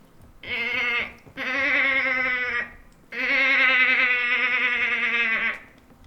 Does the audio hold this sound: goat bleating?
yes